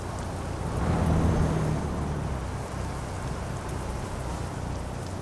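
Steady rain and thunder in the truck-driving game Euro Truck Simulator 2 while crossing a bridge, a dense continuous downpour with a low rumble of thunder swelling near the start, no voices.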